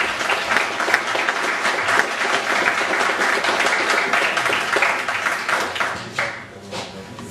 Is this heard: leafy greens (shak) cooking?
no